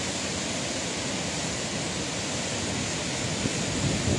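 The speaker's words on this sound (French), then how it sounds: "la fameuse cascade de la Billaude et les gorges de la Lemme" The Billaude waterfall in the Lemme river gorges roars in a steady, dense rush of falling water, loud and unbroken throughout with no voices.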